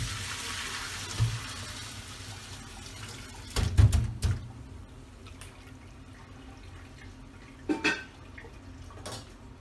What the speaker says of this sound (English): you can drain your potatoes